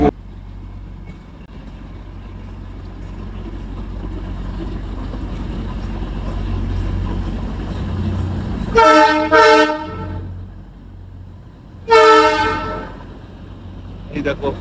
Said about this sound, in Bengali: এখানে ওই পিছনের দিকে একটা ট্রেন ইঞ্জিন রেডি হচ্ছে